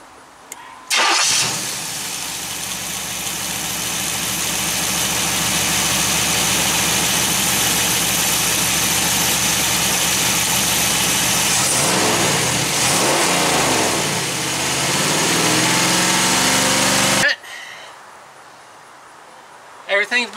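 A 3rd gen Pontiac Firebird engine, run with the belt off the crank, cranks and catches loudly, then holds a steady rumbling idle with rising revs before cutting off abruptly; speech is heard around it.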